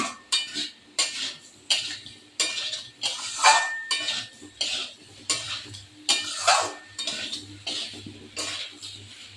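Metal spoon scraping and clanking against a pan while potato curry is stirred for a khichuri and aloo dum meal, in regular repeated strokes about once a second, close and fairly loud, with water being added.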